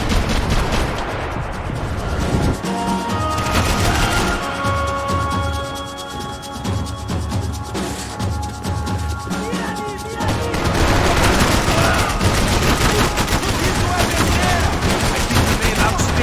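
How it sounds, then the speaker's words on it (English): Dense gunfire in the video game Max Payne 3, continuous overlapping shots and whizzing rounds mixed with music and a voice, loud and busy throughout. "Bullets whizzing past my head!"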